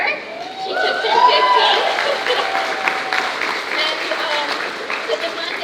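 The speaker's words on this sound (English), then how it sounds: "Applause for her." Guests at a quinceañera celebration break into dense, steady applause mixed with crowd chatter and cheering, while a voice speaks over it.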